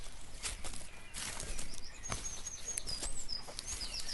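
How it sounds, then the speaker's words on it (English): Early morning birds chirping in a peaceful countryside lane, thin high calls and twitters scattered faintly over soft rustling and a few dull footstep-like thumps, calm and distant. "The sound of early morning birds chirping creates a relaxing ambience"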